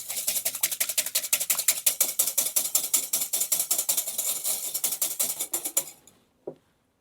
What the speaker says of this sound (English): It calls for the egg whites to be stiffly beaten